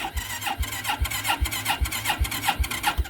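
A carbureted ATV engine cranks over on a cold start with the choke set to full, the starter whirring in a steady, rapid rhythm of repeated pulses without catching, loud and close.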